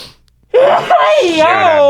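A single theatrical vocal sneeze that stretches into a long wailing, warbling cry, loud and close.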